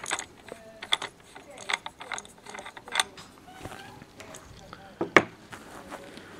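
Small metal clicks, taps and ratcheting rattles come from a suppressor being worked off a Hatsan AT44-10 PCP air rifle, in scattered close bursts with one sharper clink near the end.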